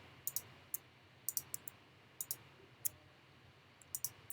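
Computer mouse clicks during digital painting, a dozen or so sharp, quiet ticks in small clusters and singles spread across a faint hiss, with no voice.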